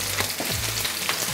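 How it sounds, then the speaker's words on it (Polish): Sliced onion sizzling in hot olive oil in a pan, a steady close crackling hiss with occasional louder pops and stirring scrapes, no voices. "słychać zapewne, że cebula, że tłuszcz jest mocno rozgrzany"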